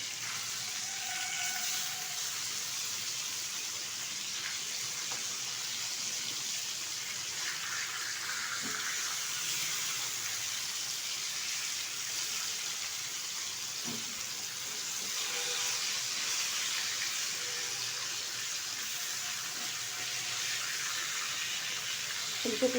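Pieces of bhola fish frying in hot oil, a continuous even hiss and sizzle holding steady for over twenty seconds with occasional faint clicks of turning.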